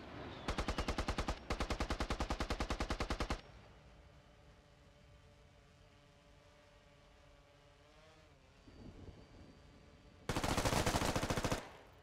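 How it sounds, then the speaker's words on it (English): An A-10 aircraft makes a gun run in Squad, its cannon firing in long, extremely rapid buzzing bursts: two back to back, then a quiet stretch with a rising engine whine, then a third loud burst. "A10 gun run."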